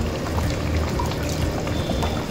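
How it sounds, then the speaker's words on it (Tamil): Coconut milk pours into a simmering chicken gravy as a continuous close splashing, gurgling flow that runs steadily throughout, with no talking. "இப்போ வந்து நான் கொஞ்சம் தேங்காய் பால் சேர்த்துக்கிற போகிறேன்."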